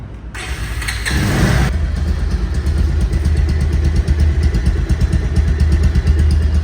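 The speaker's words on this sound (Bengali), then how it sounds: "এখন বাইকটি সাউন্ড কোয়ালিটি শোনাব" A Bajaj Pulsar DD ABS motorcycle engine, a late-2024 model, runs close and loud with a steady, smooth pulsing idle after a brief initial rev at the start.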